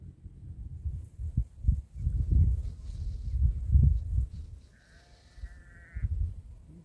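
Sheep bleating outdoors in the countryside, a few calls at moderate distance over low rumbling wind and handling noise, with a faint higher whine near the end.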